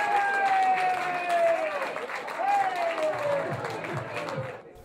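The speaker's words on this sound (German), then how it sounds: "Der Jubel war groß." Stadium crowd cheering a headed goal that puts the home side from Fussach 2:1 up in a local football match, a broad sustained roar with a rising whistle-like tone over it, loud throughout before cutting off at the end.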